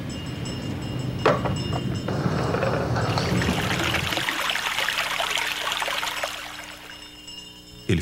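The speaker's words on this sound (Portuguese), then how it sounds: "O pastor tirou água de um poço profundo que havia por perto." A shepherd draws water from a deep well: a steady, fairly loud rush of splashing and pouring water with faint mechanical clatter runs for most of the stretch, then drops away abruptly near the end.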